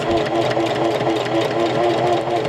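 A sewing machine runs a zigzag stitch, sewing fold-over elastic onto a cloth diaper, with a fast, even mechanical chatter close by and steady throughout.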